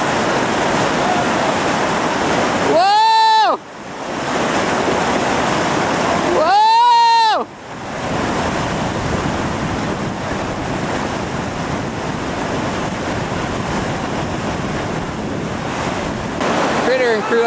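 Whitewater rapids at Hungry Mother on the Gauley River, running at 2800 cfs, roar loudly and continuously. Two short bursts of shouting cut in, and wind buffets the microphone.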